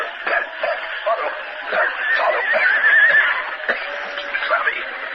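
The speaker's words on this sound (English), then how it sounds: "the horses whinnied loudly" Several horses whinny loudly and repeatedly in a dense, overlapping burst, with a muffled, band-limited broadcast tone, set in an old-time radio western drama.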